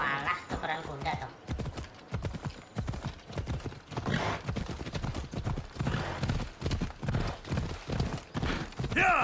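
A horse galloping in Assassin's Creed Odyssey, its rapid rhythmic hoofbeats pounding steadily and close throughout, with a brief whinny and other game sounds mixed in.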